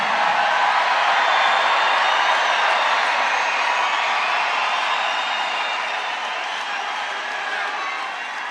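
A large crowd at an outdoor political campaign rally in Duluth, Georgia, cheering and roaring in a continuous wall of sound that fades slightly toward the end.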